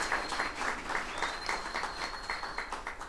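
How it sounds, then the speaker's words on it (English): An outdoor crowd at a heritage-site ribbon cutting in New York claps in a steady, moderately distant patter of applause, with a high tone running through it. "You can clap for that."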